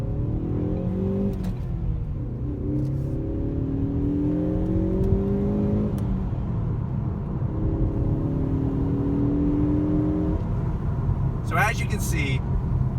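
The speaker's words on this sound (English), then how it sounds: "let you listen to that engine" A Ford Focus ST hot hatch engine revs while driving, its tone rising and falling through several gear pulls with a steady road rumble underneath, heard from inside the car.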